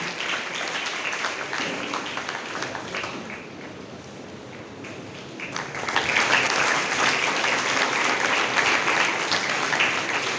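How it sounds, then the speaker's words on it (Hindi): An audience at a school event honouring students in Dhamtari claps steadily, the applause easing briefly and then swelling louder and fuller toward the end. "जोरदार तालियों से इन्हें प्रेरित करें"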